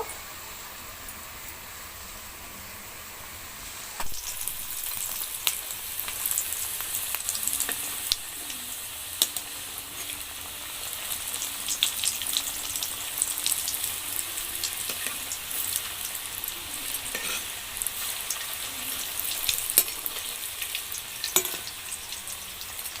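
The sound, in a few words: vegetable chops frying in oil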